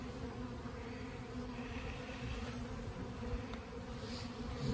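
Honeybees crawling over a hive frame, with a dense, continuous buzzing hum close by and steady throughout, no talk.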